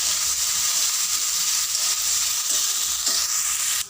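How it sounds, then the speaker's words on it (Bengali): Fried potatoes sautéed with ginger paste and chili paste in hot oil, giving a loud, dense, continuous sizzle with faint stirring underneath, close by and with no voices. "এবার এর মধ্যে দিয়ে দেবো অল্প আদা বাটা, লঙ্কা বাটা দিয়ে কষে নেব।"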